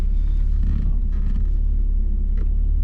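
A 1982 BMW E21 320is with 219,000 miles rumbles steadily while driving, a low continuous engine drone heard close from inside the car with no talking.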